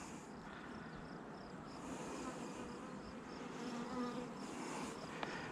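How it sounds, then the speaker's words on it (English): Honey bees buzz steadily around a hive frame, a close, continuous drone from many insects with no talking. "There's a little bee on my finger here."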